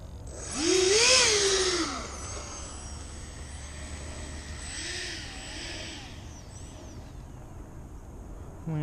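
A model airplane engine on a New Year's Day test flight with extra weight in the nose, buzzing loudly as it passes close, then a fainter rising and falling whine as it circles farther away.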